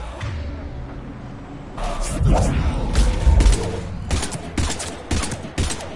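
Gunfire in a Mass Effect battle against husks starts after a quieter opening and runs as a dense mix of rapid shots and thuds, loud and close, with shouting voices mixed in.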